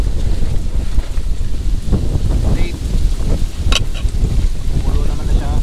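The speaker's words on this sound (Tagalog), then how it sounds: "Sarap ng hangin." Wind gusting across a car campsite, a loud continuous rumbling buffet against the microphone that swells and dips throughout, with faint voices in the background.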